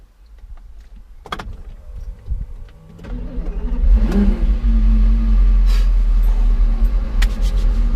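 A 2004 Porsche Carrera GT engine idles low, then revs up sharply and holds a loud, steady roar up close, with a few short high mechanical whines over it.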